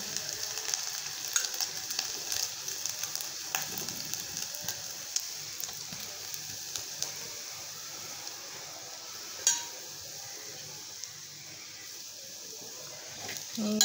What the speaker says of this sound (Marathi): बारीक गॅसवर हे ओलं खोबरं आपण भाजून घेऊ